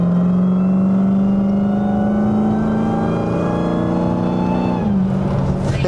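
A 1000hp Dodge Hellcat engine revs hard at close range with a steady, growling harmonic drone, then the pitch drops sharply near the end as it downshifts into a rougher burble.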